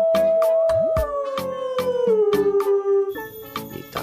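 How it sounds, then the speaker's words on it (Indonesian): A long, wavering wolf howl glides slowly downward, backed by bright repeated music-like tones and beats rather than sounding like a natural wild recording. "Widih, di sini ada si hewan serigala."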